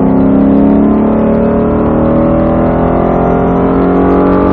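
Ford Mustang Shelby GT at full throttle on a track at Speed Vegas, a loud, close engine roar rising steadily in pitch as it accelerates, with no speech over it.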